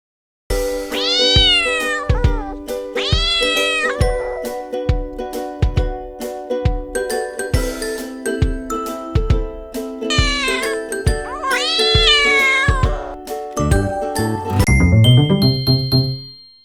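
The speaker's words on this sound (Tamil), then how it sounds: "பூனை கத்தும்." Repeated cat meows, several long drawn-out cries, set over a bouncy musical backing of chiming bells and a steady beat.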